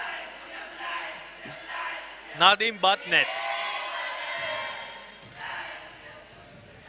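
A school basketball crowd cheers on Lyceum International School in a game against Colombo International School, a broad, steady roar from the stands under close commentary, with a brief burst of sharp shouts in the middle.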